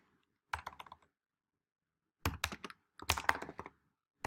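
Typing on a computer keyboard, entering a short phrase in bursts of clustered keystrokes separated by pauses, close and fairly crisp with no other sounds.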